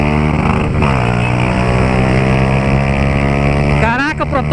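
A Honda Titan 150 motorcycle fitted with a Pro Tork exhaust roars loudly and steadily close by, its engine note rising and falling as it revs through the whole stretch.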